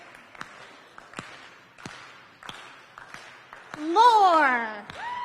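An audience gives a slow clap at a startup week event, with sharp claps spaced evenly about once a second, and a voice briefly calls out partway through.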